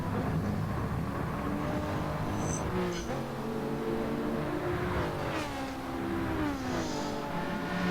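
A race car engine in Gran Turismo 7 drones and shifts pitch through a final corner, rising and falling tones over a steady roar, with brief whooshes of other cars nearby.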